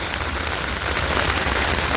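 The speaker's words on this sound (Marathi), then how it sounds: "पाऊस चालू आहे वरतून बघू शकता तुम्ही" Heavy rain falling on a vehicle's paper-covered roof, a dense, constant close patter of drops drumming steadily throughout with no talk over it.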